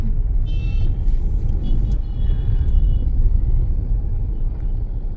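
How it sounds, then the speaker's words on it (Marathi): Heavy road traffic on the way to Satara makes a dense, continuous rumble of engines with a faint honk or brake hiss early on. No voices are heard. "खूप जास्ती ट्रॅफिक आहे"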